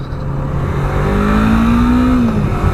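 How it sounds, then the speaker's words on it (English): A 2017 Yamaha MT-03 twin-cylinder motorcycle engine revs steadily, its pitch climbing then dropping back, loud and close with a constant mechanical drone. "The engine on here sounds brilliant."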